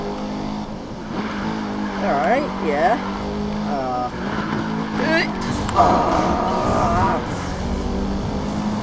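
A Dodge Challenger SRT8 drifts in Need for Speed Rivals, its engine revving and rising in pitch through the slides while tires squeal, and someone speaks briefly over the car noise.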